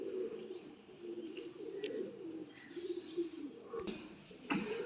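Soft, low coos from Golden Teddy pigeons repeat in rolling phrases, with a few faint chirps and small clicks in the background.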